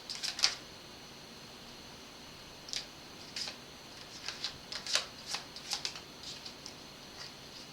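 Tarot cards being shuffled by hand, a crisp burst of riffling near the start followed by repeated light, papery flicks and shuffles at close range in a quiet room.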